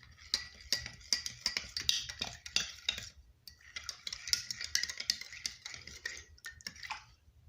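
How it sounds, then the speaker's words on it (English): A utensil stirs food in a German military ration pack, with quick scraping and clinking strokes in two bursts split by a short pause, close up and without speech. "let's give them a stir."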